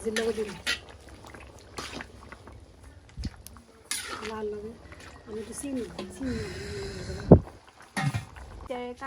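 Fresh, tender bottle gourd boils in a pot, a soft bubbling and simmering texture that sits under steady conversation through most of the stretch.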